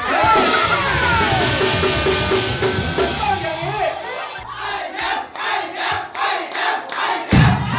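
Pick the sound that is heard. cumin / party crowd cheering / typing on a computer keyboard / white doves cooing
party crowd cheering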